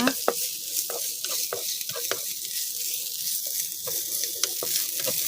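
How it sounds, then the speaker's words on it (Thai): Chopped shallots stir-fried in a pan for a pork sago filling, giving a steady bright sizzle with repeated scraping strokes of a spatula at a regular pace, close and moderately loud, with no talking. "เราก็จะใส่หอมแดงสับลงไปค่ะ ผัดให้หอมแดงสุกดีนะคะ"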